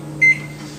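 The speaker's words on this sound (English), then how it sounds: "just pop that in the microwave" A microwave oven melting butter gives a steady low hum, broken by a single short, bright beep early on before the hum carries on alone.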